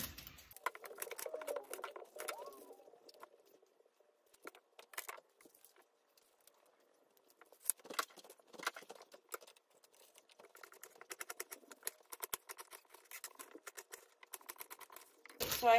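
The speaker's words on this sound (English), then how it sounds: "Next, I'm gonna cut the onion." Knife cutting an onion on a board for a meal-kit dinner, with many rapid light taps and chops in uneven bursts, close and quiet, separated by short pauses.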